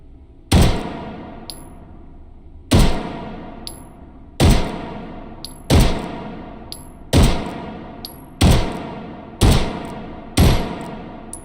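Luger pistol firing on a shooting range in the VR game H3VR: eight sharp, loud shots spaced about a second and a half apart, each ringing out with a short metallic tail, no talking.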